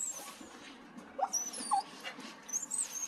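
A dog gives a few short, faint whimpers and yips in a quiet room, with one soft cry after another spread across a few seconds and no voices over them.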